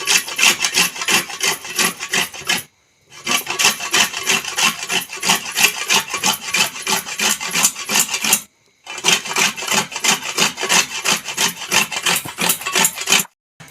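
Coconut is grated by hand in a home kitchen, giving a fast, loud, rhythmic rasping scrape that runs in three long stretches separated by brief pauses, with no talking.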